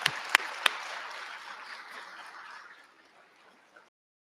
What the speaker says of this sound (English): Now let's have the big round of applause